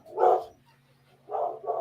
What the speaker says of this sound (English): my dog is going crazy. If you hear the barking